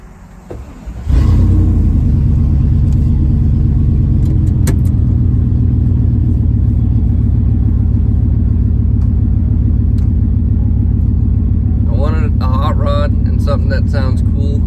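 A van's engine cranks and catches in a Costco parking lot, then settles into a loud, deep rumble that holds steady for over ten seconds, with a brief rev near the end.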